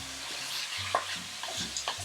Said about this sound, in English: And then you just stir this like you would any scrambled hamburger,